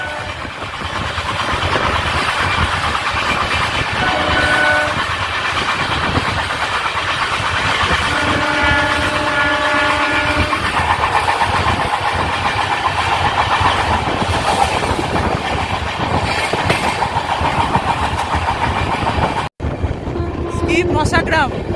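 The Sahid Express rumbles along at a restricted speed through Masagram, a loud continuous roar of wheels and carriages with rhythmic clatter, occasional horn-like tones and a brief break near the end.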